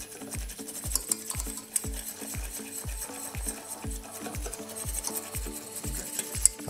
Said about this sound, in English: I don't stop stirring because I don't want it to burn